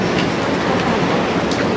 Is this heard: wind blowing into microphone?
no